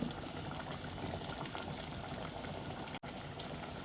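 A pot of mutton curry with potato steams and simmers on the stove, a continuous, fairly quiet hissing bubble with no talk.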